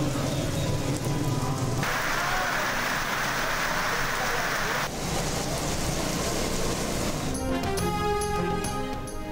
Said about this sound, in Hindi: सिंध, पंजाब, खैबर पख्तूनख्वा और आज़ाद कश्मीर के मुख्तलिफ शहरों में हल्की और तेज़ बारिश का सिलसिला जारी।